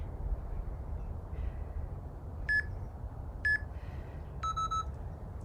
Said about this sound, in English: you can always go past the beep a little bit